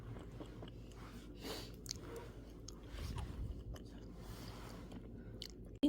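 Soft, close chewing of injeolmi, a chewy Korean rice cake, with quiet sticky mastication sounds continuing steadily at low volume.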